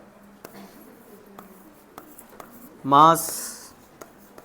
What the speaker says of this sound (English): I will write here